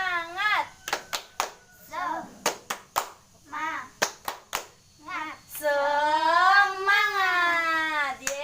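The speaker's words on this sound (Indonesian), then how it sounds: "Ayo tepuk semangat." Children in a classroom do a rhythmic clapping chant, sharp hand claps in a repeating pattern alternating with short high-pitched sung shouts, close and lively.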